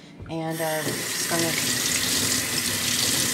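A sink faucet gushes a loud, steady stream of tap water over the roots of a mealybug-infested succulent being washed, with a brief spoken phrase at the start.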